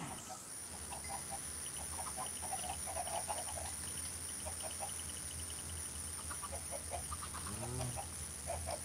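Chickens in the block-building game Minecraft cluck in short scattered bursts over a steady background hum, a few soft clucks in succession with a brief lower call near the end.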